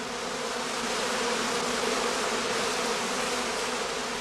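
A dense swarm of honey bees casting from heather skeps at an apiary, clustering together; a steady, loud, continuous buzzing drone with no pauses, close and unbroken throughout.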